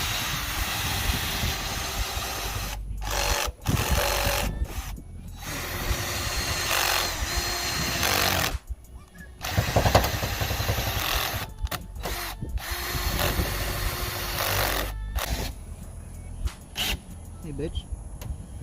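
Power drill boring a larger hole, bursts of whirring drilling broken by short pauses, with people talking nearby throughout.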